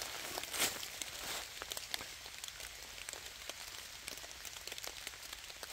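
Rain falls outdoors at an off-grid homestead by a pond, a soft steady patter with scattered nearby drips and a brief rustle early on.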